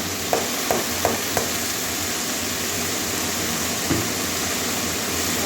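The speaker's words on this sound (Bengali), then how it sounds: "ভালো ভালো করে কষিয়ে নেব শাকটা" Red amaranth greens being stir-fried in a pan with already fried potato and eggplant: a steady close sizzle under a few quick spatula taps early on and another later, with no talk.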